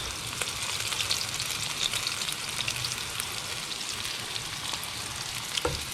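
A roughly chopped whole onion fries in hot ghee, giving off a steady, moderately quiet sizzle and crackle with no talking.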